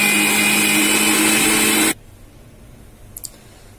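Kitchen mixer grinder loudly whirs as it pulverizes chocolate biscuits, a steady high-pitched motor roar that cuts off abruptly after about two seconds, leaving near silence and a faint clink.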